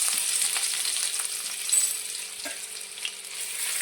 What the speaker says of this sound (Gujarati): લસણને સારી રીતે સાંતળી લઈશું.